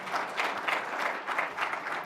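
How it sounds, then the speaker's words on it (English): Applause from the audience at a live photography awards judging day, dense and steady clapping filling the room throughout, with no speech over it. "A round of applause for Tony Hewitt and our judges"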